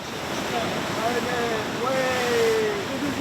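Heavy Atlantic waves crash against rocks on the Fuerteventura coast, a loud continuous roar of churning surf and spray with some wind buffeting the microphone.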